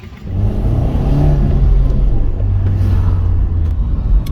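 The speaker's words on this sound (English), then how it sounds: "So here I am driving the Rover 214 8-valve." A Rover 214 8-valve hatchback heard from inside while driving, its engine a loud steady low rumble and whir that builds slightly as it accelerates, with no talking.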